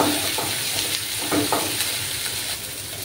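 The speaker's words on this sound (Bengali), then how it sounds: "ভালোভাবে আমি কষিয়ে নেব।" Fish curry masala sautéing in a pan, a dense close sizzle with a few brief scraping stirs, steady and loud throughout.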